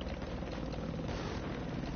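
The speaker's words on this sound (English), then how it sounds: "I hear the chopper. I just don't see it." An enemy helicopter in the video game Battlefield passes overhead as a loud, steady rotor drone with heavy low rumble that continues unbroken.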